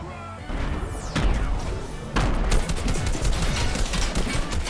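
Gunfire in Fortnite battle royale, with rapid bursts of shots and sharp impact crashes that come loud and close, including a heavy blast about halfway through, and no talking.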